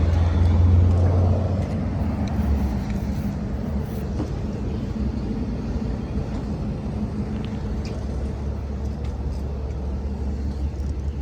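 Steady low rumble of a car driving on a winter day in New Westminster, BC, a constant engine and road drone heard from inside, with faint rattles and no talking.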